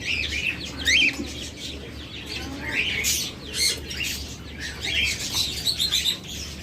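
Pet cockatiels and other caged birds at a bird sale call over one another in a busy, close chorus of chirps, whistles and squawks, with a low background hum throughout.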